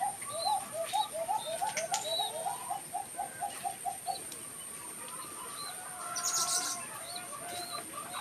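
A ring-necked dove and a pigeon chick call close by, a run of quick soft cooing or peeping notes, then quieter scattered chirps over a faint background hiss.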